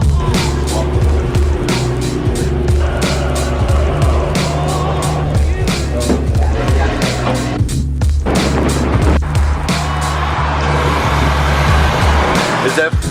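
A car accelerates hard at full throttle, a loud close engine roar with rhythmic rattling pulses, while people talk over it.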